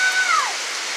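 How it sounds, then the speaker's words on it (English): Heavy rain pours down steadily during a sudden storm under a tornado warning, a dense continuous hiss with a brief whistling tone near the start. "It just started pouring down raining."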